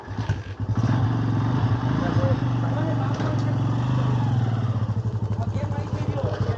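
A motorcycle engine runs close by with a steady, throbbing drone, rising briefly as it revs, and continues throughout.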